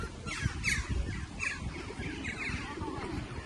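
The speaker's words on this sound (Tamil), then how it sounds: "அங்கே ஒரு பறவை இருக்கு" Bird calls ring out outdoors on a walk through an open area, a few short harsh chirps and squawks at moderate distance over steady wind and background noise.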